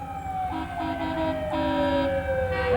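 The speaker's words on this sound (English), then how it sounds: "Fire engine, very," A fire engine siren from the Linwood Fire Department's Unit 1830 truck in a 1995 Lansing community parade, a steady wail slowly falling in pitch, with honking horn bursts layered over it, loud and close without talk.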